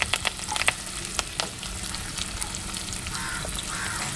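Chopped onions and curry leaves frying in a clay pot over a wood-fired stove for fish curry, a steady close sizzle with scattered crackles and a few scraping stirs, no talking.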